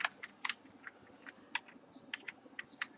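JavaScript code typed on a computer keyboard, a brisk irregular patter of light key clicks with short pauses between bursts, close by and fairly soft over a faint background hiss.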